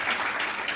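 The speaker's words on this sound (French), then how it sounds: "On applaudit pour lui, ça me fait plaisir." Audience applause at a stand-up comedy show, a brief burst of dense clapping at moderate volume, with no talk over it.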